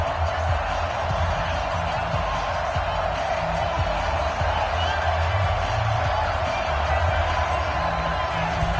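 A stadium crowd at an NFL preseason game between the New York Giants and the Los Angeles Rams, waiting for kickoff; a steady, dense roar fills the whole stretch, with a commentator talking over it.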